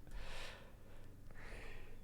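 A person sneezes, a faint breathy burst with a sharp intake of air, followed by a second softer exhale.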